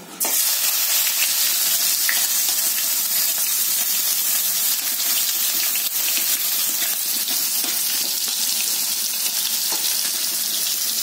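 Onion sizzles in hot oil in a pan after dried bombil fish is fried, a loud, constant close crackling hiss that starts abruptly and runs steadily throughout.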